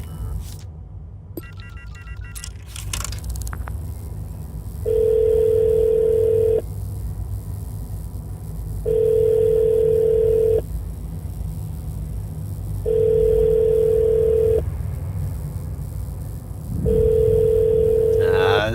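Telephone in the video game Shadows of Doubt, a dial tone with clicks followed by four loud, evenly spaced electronic ring tones separated by pauses.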